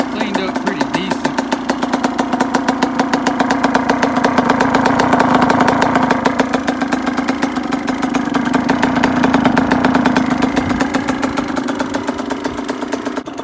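A dirt bike engine runs steadily at a fast, buzzing idle for the whole stretch, loud and close, with slight swells in pitch and someone talking over it at moments.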